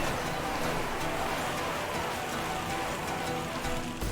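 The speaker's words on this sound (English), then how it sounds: "Oh, the bolts are raining down." Dense, steady patter of crossbow bolts raining down during a massive battle between Venetian crossbowmen and enemy troops in a strategy game, a constant hiss like rainfall across the whole stretch with no voices.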